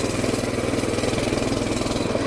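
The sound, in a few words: mini bike engine revving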